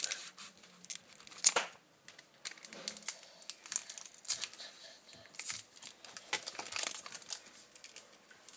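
Packaging of a Pokémon card box being torn open by hand, with quiet, intermittent rips and crinkles of paper and foil in short bursts, one sharper tear standing out early on.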